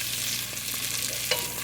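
Ingredients caramelizing in a pot, a steady bright sizzle and crackle throughout with a few light stirring sounds, close and uninterrupted.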